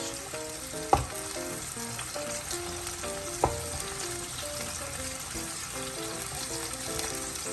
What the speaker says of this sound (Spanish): Vamos a dejar que se disuelva un poco la harina en la mantequilla sin dejar de revolver